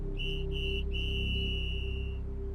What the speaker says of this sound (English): 3 angry whistle blasts split the air